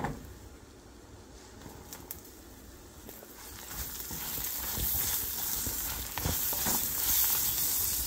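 Green chillies fry in hot oil with turmeric and asafoetida, a close sizzle that starts soft and swells into louder, busier crackling with scattered pops toward the end.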